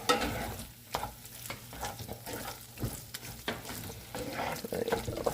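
A spoon works through a tortilla bake mixture in a cast iron pan, giving scraping, clattering stirs in irregular bursts over a soft sizzle, close and moderately loud with no talking.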